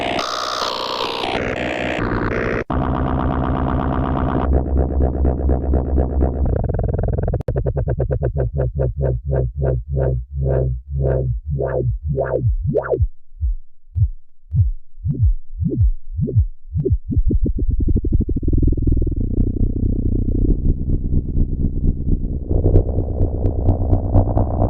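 A Roland Juno synthesizer with reverb plays harsh electronic tones that shift through distorted textures and rapid rhythmic pulses, then return to dense, buzzing chords.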